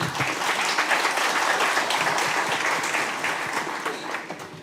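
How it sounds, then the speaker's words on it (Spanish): Audience applause for an education panel at an intercultural leadership event in Ecuador: dense, steady clapping from a sizable crowd that holds throughout and tapers slightly near the end. "Un aplauso para nuestro panel"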